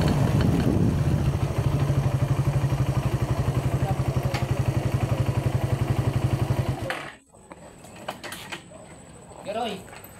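Motorcycle engine idling close by with a steady pulsing putter that runs loud for about seven seconds, then cuts off abruptly, leaving quieter background noise and a few faint voices.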